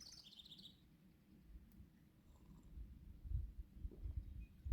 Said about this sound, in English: The birds are really singing.